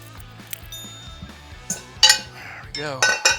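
A metal tire spoon clinks and scrapes against the rim of a Suzuki Quadzilla 500 ATV while the tire is pried off, giving sharp close metallic chinks over quieter handling noise.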